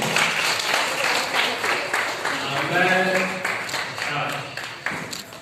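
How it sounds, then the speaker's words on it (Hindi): Loud audience applause fills a community gathering honoring teachers and guests at a foundation event, a dense steady patter of many hands sustained throughout, with a voice speaking over it partway. "जोरदार तालियां तालियां बजती रहे।"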